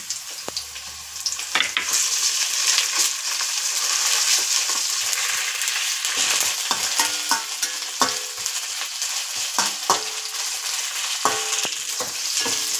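Onions, green chillies and ginger fry in a hot pan with a bright, continuous sizzle, punctuated by scattered clicks and scrapes of stirring, close and fairly loud.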